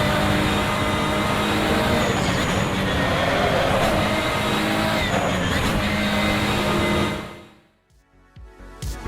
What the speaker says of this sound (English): I noticed one issue, which is the exterior sound of this car.